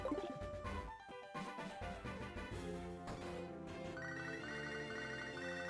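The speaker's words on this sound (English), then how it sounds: "We're receiving a phone call." An incoming phone call rings in Pokémon HeartGold with a bright, chiming electronic ringtone melody that repeats steadily over the game's background music.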